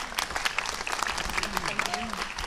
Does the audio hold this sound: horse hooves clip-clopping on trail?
no